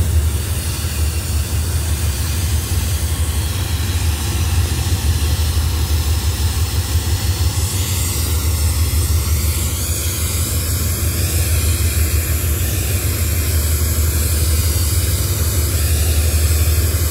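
A broken-down Hitachi 4505 diesel locomotive being restarted at a station, its engine holding a loud, steady, continuous low drone with a constant mechanical hum and no breaks.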